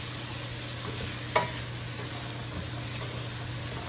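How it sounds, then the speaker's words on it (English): Vegetables for paella sauté in a pan with a steady, close hiss of frying, broken by one sharp stirring clink, over a constant low hum. "And then just saute it."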